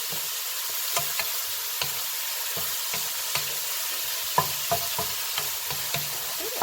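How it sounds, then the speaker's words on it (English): Bittermelon and Chinese eggplant cooking with bacon in a pan give a steady sizzle, with scattered clicks of stirring and the utensil scraping the pan throughout. "We're just going to let this simmer for a little bit, or cook."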